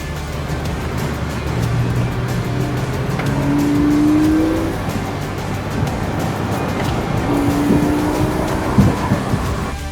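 A Porsche Boxster 986 with a 2.7-litre naturally aspirated engine revs while driving, its tone climbing, swelling around the middle and climbing again amid road and cabin noise, with no talk.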